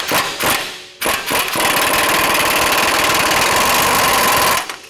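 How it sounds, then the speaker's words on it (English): An impact wrench on a Toyota Tundra, being fitted with a 7-inch lift, backs a coilover bolt out in one steady, loud rattling buzz lasting about three seconds after a few short opening bursts. "I'm going to take the impact and thread the bolt out"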